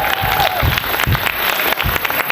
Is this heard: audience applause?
yes